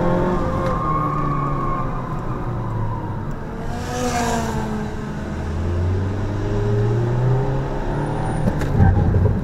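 A Mazda ND Roadster being driven on a circuit during a spin-avoidance driving lesson, its engine note rising and falling through acceleration and lifts, heard steadily from nearby with no talking.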